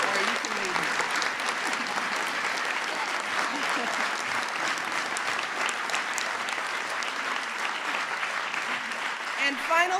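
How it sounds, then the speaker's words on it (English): Sustained applause from a large crowd, dense steady clapping filling the whole stretch with no pauses. "So let's give them a round of applause."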